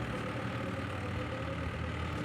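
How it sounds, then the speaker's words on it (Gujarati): A Mahindra Ford tractor engine runs steadily while ploughing a field, a constant low, close rumble with no change in pace and no voices over it. "જોઈ જુઓ તો આ રીતનું આપણું કંઈક ટ્રેક્ટર હાલે છે"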